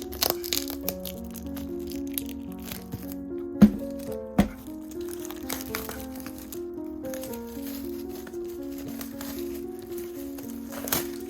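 Plastic wrap on a 4K Blu-ray box set is cut and peeled open, giving close crinkling and scraping with a couple of sharp snaps, over faint background music.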